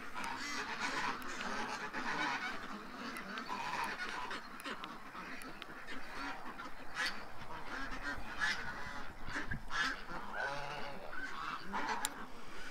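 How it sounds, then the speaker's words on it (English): A flock of ducks quacks and honks continuously, many overlapping calls close by with no pauses, busy and loud throughout. "the ducks are thinking about going in"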